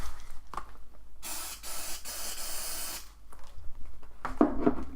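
Dettol disinfectant sprayed into boxing gloves: one long hissing aerosol burst of about two seconds, close and clear, framed by quieter handling rustles before and after.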